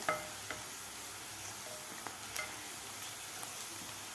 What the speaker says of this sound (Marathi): साधारण तीन ते चार मिनिट कांदा आपल्याला परतून घ्यायचा आहे